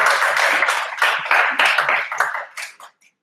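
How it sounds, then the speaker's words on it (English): An audience at a tech talk breaks into a short round of applause, a dense burst of clapping that thins out and stops within about three seconds. "I give you a round of applause for"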